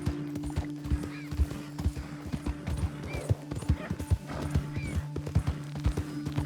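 Horse hooves clip-clop at a steady riding pace in Red Dead Redemption 2, with occasional faint whinnies and a low sustained hum underneath.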